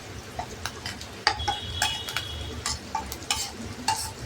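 Peanut and garlic paste with ginger and turmeric sautéed in a pan, heard as soft scraping stirs and light clinks of a spoon against metal over a faint low sizzle, the strokes coming irregularly.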